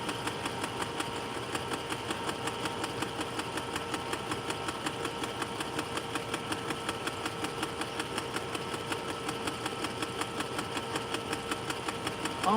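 A sewing machine stitches a denim skirt with a fast, even mechanical patter and a steady motor hum, running continuously close by and alone.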